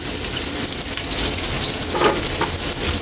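Onion, garlic and ginger sizzle steadily while sautéing in a pan for an octopus dish, a close, continuous frying hiss with faint stirring scrapes near the middle.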